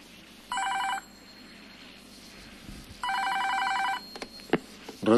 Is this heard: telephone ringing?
yes